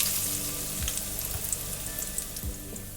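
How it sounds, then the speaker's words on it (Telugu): A small, finely chopped onion fries in one spoon of oil in a pan, giving a close, even crackling sizzle. A few soft stirring knocks sound, with a faint tonal hum in the background. "ఒక ప్యాన్ పెట్టేసుకొని 1 స్పూన్ ఆయిల్ వేస్తున్నా. ఒక చిన్న సైజ్ ఆనియన్ని ఇలా చిన్నగా తరిగి వేసుకుంటున్నా."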